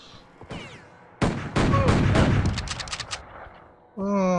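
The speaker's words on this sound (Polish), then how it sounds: "Który idiota do mnie strzela." Bursts of gunfire in the Western video game Outlaws, a rapid volley of loud, close shots with sharp repeated cracks that fade out, followed by a sustained tone.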